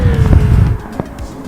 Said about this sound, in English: In this one I am racing a Mercedes AMG GR3